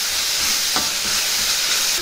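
A spoon stirs a spiced beetroot and rice mixture with garam masala, coriander powder and chili powder in a pan, giving a steady sizzling hiss with a faint scrape near the middle, no voices.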